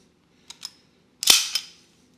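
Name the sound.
slide of IWI Jericho 941 pistol pulled to the rear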